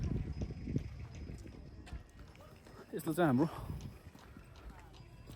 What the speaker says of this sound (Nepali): यो चाहिँ हाम्रो यहाँ ट्रान्सपोर्ट सिस्टमको लागि घोडाहरू रहेछ